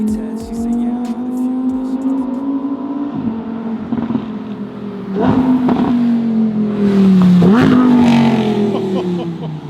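Lamborghini engines with stock exhausts rev hard and loud, with several rising and falling sweeps as the cars pull away close by, over a bed of crowd noise.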